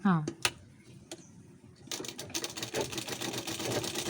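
A sewing machine stitches a puff sleeve. After some brief taps and a short vocal sound, a steady rapid mechanical clatter runs close and fairly loud through the second half.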